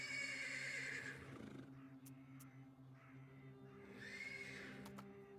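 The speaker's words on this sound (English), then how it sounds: "The persistent neighing of a horse can be heard from the stables." A horse neighs persistently from stables in a dark video game scene, with drawn-out whinnies rising and falling over a low ambient drone. No one speaks.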